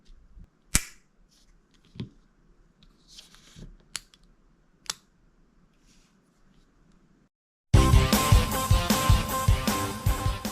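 An archery bow release trigger with a magnetic thumb button for bowhunting, giving a few sharp isolated clicks at intervals in near silence, followed by loud music.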